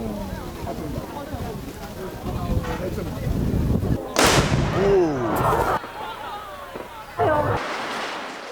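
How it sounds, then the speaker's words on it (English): Booming shots from a cannon fired in a drill demonstration, two or three heavy blasts with rumbling tails, amid voices and crowd noise. "Cannon drilling demonstrations are still held to this day."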